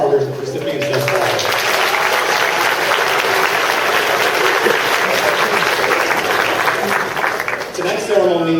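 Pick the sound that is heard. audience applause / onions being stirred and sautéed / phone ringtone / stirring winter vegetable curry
audience applause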